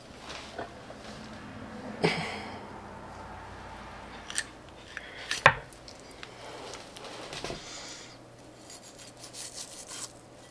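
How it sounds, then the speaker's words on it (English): A knife slices through rabbit meat along the ribs, giving soft rasping, scraping cuts with a few sharper clicks of blade against bone, quiet and close with no talk. "You're going to cut along the rib."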